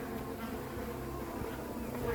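Honeybees from a rehomed feral swarm buzz around their hive, a steady, dense drone of many insects close by, continuous and even in level with no pauses.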